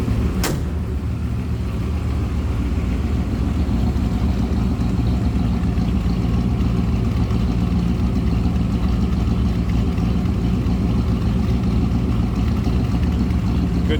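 A 1934 Ford 3-window coupe street rod idles with a deep, steady rumble heard up close from behind the car, a brief sharp click near the start, no voices over the engine.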